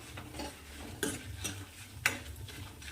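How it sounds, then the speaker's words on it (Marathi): Red chillies stirred in a pan for a spicy garlic chutney, soft scraping strokes with occasional sharp clinks of a utensil against the pan over a faint sizzle. "मिक्स करून घ्यायचं असं हलवत राहायचं आहे"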